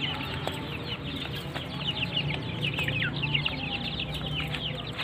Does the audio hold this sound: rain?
no